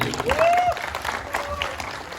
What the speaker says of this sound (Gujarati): પહેલા તો તમારા બધા માટે એક જોરદાર તાળીઓ થઈ જાય